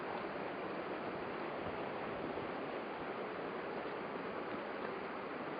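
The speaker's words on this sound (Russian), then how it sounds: "Вода здесь тоже перекатывается" Water of the Tosna river rolling and splashing over limestone stones, a steady, close, broadband rushing that stays even and continuous throughout, with no voices.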